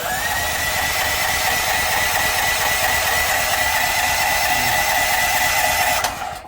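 A Duromax generator with its choke on gives a steady, loud mechanical clatter and rattle from its recoil starter and engine for about six seconds, then cuts off abruptly.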